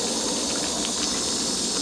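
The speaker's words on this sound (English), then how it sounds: "There's our rolling boil, and we're just at the 3-minute mark." Water at a rolling boil in a camp stove cookset, with the stove's windscreen fitted, giving a steady broadband hiss and roar that holds constant and close with no pauses.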